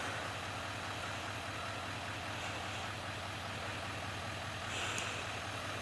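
A brand new pickup truck, not a Ram, idles with a steady low rumbling hum that holds even and unbroken, close by, with no talking.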